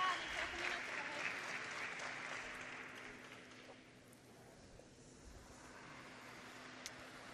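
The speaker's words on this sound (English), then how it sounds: "That was applause you heard in the background for the young English skip who just made a double" Applause from spectators at a world mixed doubles curling championship match, Finland against Estonia, rises at the start and then fades into a softer, distant patter, with some talk underneath.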